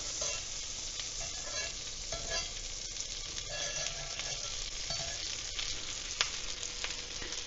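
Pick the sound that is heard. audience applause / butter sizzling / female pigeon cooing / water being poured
butter sizzling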